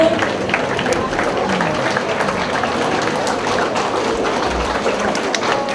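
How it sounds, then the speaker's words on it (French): Audience applause for the caterer at a Cercle de Fermières 100th anniversary gathering, a continuous, loud wash of clapping from a roomful of people, steady throughout with crowd noise mixed in. "On pourrait donner une bonne main d'applaudissements jusqu'à maintenant pour notre traiteur"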